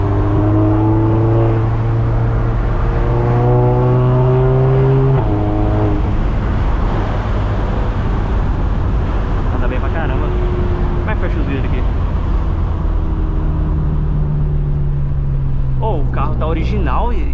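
An Audi car engine revs hard and accelerates, its pitch climbing through repeated gear steps in a loud, continuous drone, with brief voices near the end.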